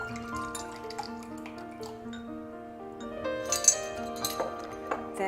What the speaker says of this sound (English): I'm going to pour ½ cup to start.